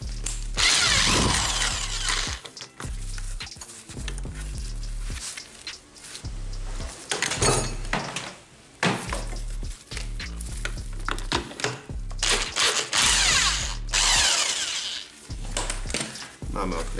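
Power tool spinning off a suspension bolt with a 22 socket on a VW Golf IV, loud close whirring bursts that start and stop repeatedly with short gaps between them.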